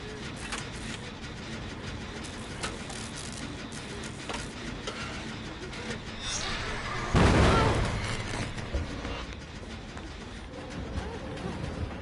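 Dead by Daylight video game: a generator explodes with one sudden, loud, broad burst about two-thirds of the way through, then fades back into a steady, dense bed of game ambience.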